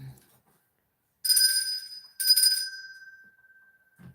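Two bright rings of a small bell, each a sharp metallic strike with a ringing tail, the second decaying slowly into silence, with brief voices just before and after.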